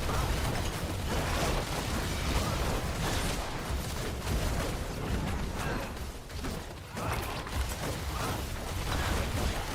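Dense, continuous rumbling blasts and crackling from explosions in the video game Diablo 4, loud and sustained throughout with no pauses.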